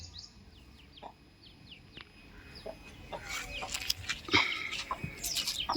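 A desi mother hen with her young chicks makes the sounds here: thin peeps come first, then louder, closer clucks and chirps build toward the end.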